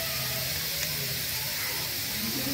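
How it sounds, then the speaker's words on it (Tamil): Onions, tomatoes and curry leaves sauté in a pan over a rocket stove, giving a soft, continuous sizzle and hiss close by, with faint sounds of stirring. "வெங்காயம் தக்காளி எல்லாம் வதங்கிருச்சு."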